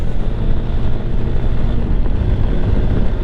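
Lifan KPX 250 dual-sport motorcycle on the move, its engine drone steady and close beneath heavy wind rush over the microphone, with no speech.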